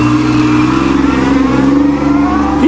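A Pontiac Fiero V6 pulls away in first gear, the engine revving loud and close with a steadily climbing drone over a few seconds.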